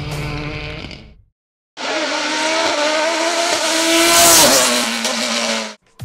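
A race car at the Limonest–Mont Verdun hill climb, the final round of the 2018 French mountain championship, blasts past with a loud, high-revving engine scream and gear changes, after a brief pass and a moment of silence.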